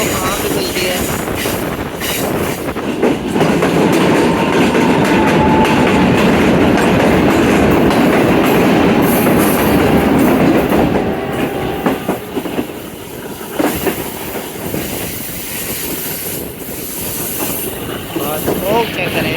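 The Khyber Mail passenger train moving at speed, with loud close rumbling and a steady clickety-clack of wheels on rail joints, occasional faint squeals, and a voice heard briefly over the din.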